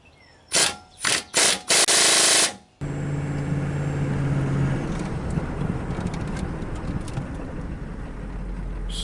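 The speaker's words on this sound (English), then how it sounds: "I got this little impact, this 3/8 impact all the way down on the lowest speed" A 3/8-inch impact wrench tightens front brake caliper bolts on a GMC or Chevy 4x4 dually truck, firing four loud, close, short rattling bursts before the work area goes quiet apart from low background rumble.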